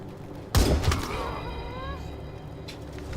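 Gunfire in the video game Wasteland 3: a sudden loud blast with a quick follow-up burst, then a ringing, fading tail with faint game ambience.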